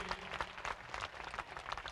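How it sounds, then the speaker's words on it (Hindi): Audience applause for a district panchayat president at a religious katha gathering, a short burst of scattered hand claps, fairly faint and distant. "इसके लिए बहन के लिए भी जरा ताली बजा दो, जिला पंचायत अध्यक्ष जी के लिए।"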